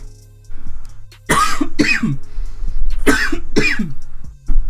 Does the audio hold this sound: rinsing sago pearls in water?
no